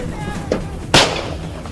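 A hunter's gunshot fired at a bear in a forest: one sharp, loud crack, preceded by a fainter thump, then a short decaying tail over low background noise.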